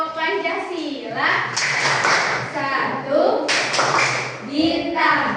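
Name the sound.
children doing the Tepuk Pancasila clapping chant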